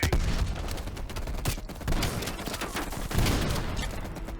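Heavy automatic gunfire in Call of Duty Black Ops Cold War combat, dense overlapping bursts and sharp cracks with booming impacts, loud and continuous with no talk.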